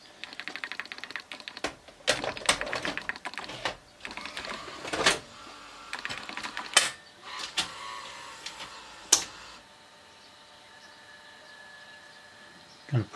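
A videotape being loaded into a Panasonic AG-7350 video cassette recorder: a run of sharp plastic clicks, clacks and mechanical knocks, followed by a quiet whirring hum of the tape mechanism.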